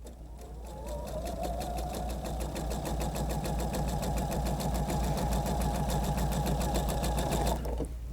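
A sewing machine stitches steadily off a quilt block onto a fabric leader in one unbroken, close run of about seven seconds, then stops abruptly.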